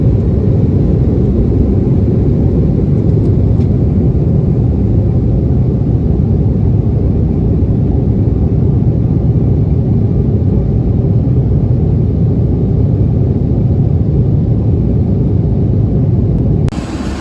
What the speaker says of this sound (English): let's get those airplanes in the background